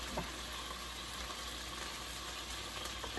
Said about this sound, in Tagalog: Gigisa na natin tong sibuyas, bawang, tsaka kamatis. Bigyan lang natin ng konting mantika.